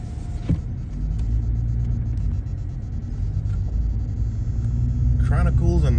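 Steady rumble of car traffic on the I-95 highway at rush hour, a continuous engine and tire drone throughout, with a brief louder passing vehicle near the end.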